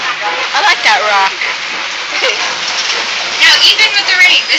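Rain falls steadily in a nature reserve overlooking Serengeti grasslands, a continuous bright hiss with scattered splashes. A person talks over it at times.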